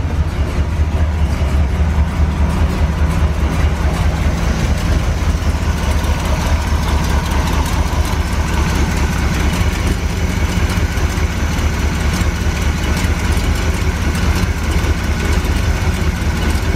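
A Corvette engine idles right after starting, a loud, steady low rumble with a dense, constant mechanical drone and no talk over it.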